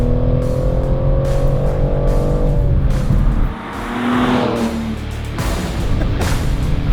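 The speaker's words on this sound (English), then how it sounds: "This 3-liter twin-turbo straight six just rips. It makes a ton of power and it pulls delightfully to redline." A BMW M3's 3-liter twin-turbo straight-six revs hard toward redline, a loud, continuous engine note with rising harmonics and a brief dip before it pulls again.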